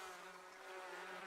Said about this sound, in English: He's now about to get swarmed by bees.